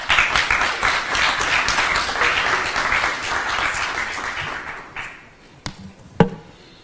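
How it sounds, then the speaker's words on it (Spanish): A conference audience applauds as the World Food Programme deputy executive director is welcomed, with loud, dense clapping that thins out and ends in a few isolated claps and taps. "Lo recibimos con fuertes aplausos"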